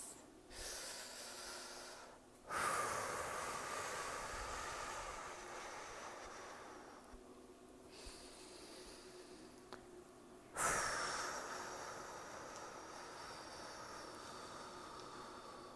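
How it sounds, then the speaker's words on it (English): Slow, deep breaths during a guided meditation, each long inhale and exhale drawn out for several seconds in a steady cycle, close and fairly soft with no talking. "go ahead and take some deep breaths."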